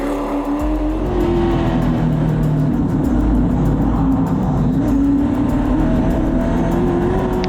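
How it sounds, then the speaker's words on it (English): Heavy stock car accelerating hard through a corner, a loud sustained engine drone rising and holding steady with rough broadband roar and possible tire scrub, no voices. "go into a corner in a big heavy stock car and hit the gas"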